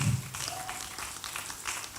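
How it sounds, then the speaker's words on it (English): Audience clapping at a parents' gathering, a dense steady wash of many hands that holds at an even level throughout the short stretch. "Please keep clapping as she comes up."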